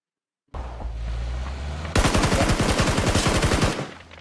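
Rapid automatic gunfire from a video game shooter, a loud burst of evenly spaced shots lasting close to two seconds, following a steady rush of background game noise with no talk.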